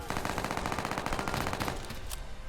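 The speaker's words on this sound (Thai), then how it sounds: "ตั้งเป้ายิง ปับปับปับปับปับปับปับปับปับ" Rapid automatic gunfire from a Roblox zombie school survival game: a continuous, fast, loud burst of shots that fades off toward the end.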